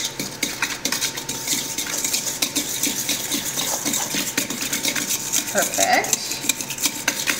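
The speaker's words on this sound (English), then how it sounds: "I'm gonna give it a quick mix." Sugar, brown sugar and salt quickly mixed in a bowl, a steady run of scraping and clinking utensil strokes at close range, with a brief spoken word.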